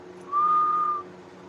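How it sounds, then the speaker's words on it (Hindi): A man whistles a single steady, clear note for about half a second, close and fairly loud over a faint background hum. "देखो मैं सीटी बजाऊं"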